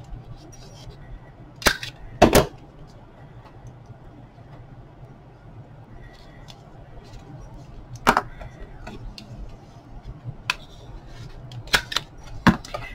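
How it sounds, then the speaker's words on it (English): Paper corners being rounded with a corner punch on a simple handmade scrap-paper notepad, giving a few sharp snapping clicks, a close pair near the start and scattered single clicks later, over a quiet room hum. "I'm going to do some rounding on the corners here"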